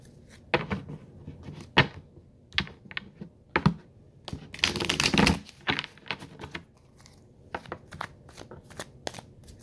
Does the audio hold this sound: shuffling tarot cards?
yes